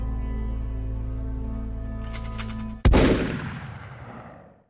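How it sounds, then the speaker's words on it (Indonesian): A gunshot in a tense dramatic film scene: a sudden loud, sharp crack over a low droning music bed, followed by a fading reverberant tail. "Sehingga Joel pun menembak Pak tua tersebut."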